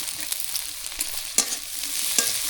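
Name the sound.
dried mola fish frying in mustard oil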